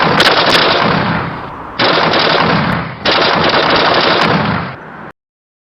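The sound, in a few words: gunfire sound effect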